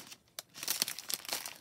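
Crinkling plastic bag packaging being torn open from a new rubber stamp set, with a sharp rip and then a close, busy burst of crackling and rustling.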